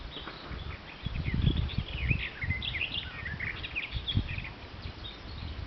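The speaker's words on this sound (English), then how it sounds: "I'm guessing that's a white throat." Whitethroat song outdoors near an abandoned steam train workshop and slag heap, scratchy warbling phrases at mid distance over low rustling and footstep-like thumps.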